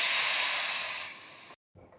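A loud, bright hiss as half a glass of water hits a hot pressure cooker of cluster beans, fading steadily over about a second and a half before cutting off, then a faint rustle.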